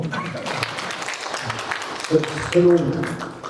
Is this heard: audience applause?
yes